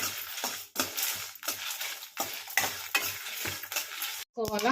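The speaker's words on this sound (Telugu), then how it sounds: "అలానే ఒక 5 ఎండుమిర్చి అన్నీ వేసి మనం బాగా ఫ్రై చేసుకుందాం" Five dry red chillies frying in a pan with sesame seeds, a rhythmic scrape of a spatula stirring over a low sizzle, close and fairly quiet, with a brief clatter near the end.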